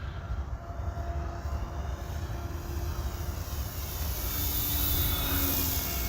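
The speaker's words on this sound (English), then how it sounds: "This airplane is so fun to fly." An FMS P-47 Razorback RC model airplane flies past, its electric motor a steady droning whine that swells slightly louder toward the end, heard outdoors with no voices.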